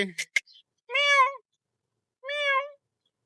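A cat gives two clear, drawn-out meows close by, separated by a short pause, after a few brief rustling noises.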